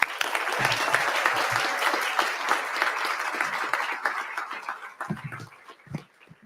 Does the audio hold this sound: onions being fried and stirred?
no